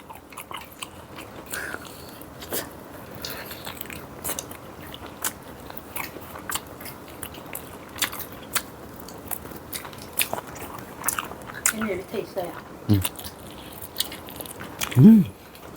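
Someone eats Papa John's chicken pizza in a mukbang, producing close, wet chewing and crunchy bites with scattered clicks and smacks over a quiet background, ending in a louder bite.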